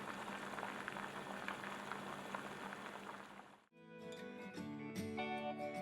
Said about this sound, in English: I am putting a lid and we will let the rasam cook for 10 minutes